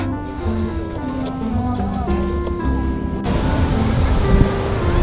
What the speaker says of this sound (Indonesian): kita sudah sampai di pantainya, di pesisirnya